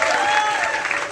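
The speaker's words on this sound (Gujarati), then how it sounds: "તો એમના માટે જોરદાર તાળીઓ" Theater audience applauding for a film's directors and writers at a cast meet-up, a dense steady wash of clapping that stays loud and even for the whole moment, with crowd noise mixed in.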